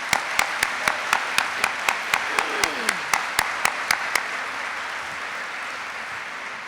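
Applause at a warrant officer candidate graduation ceremony, a diffuse crowd clapping beneath a loud, regular series of sharp single claps that stops after about four seconds while the softer applause continues.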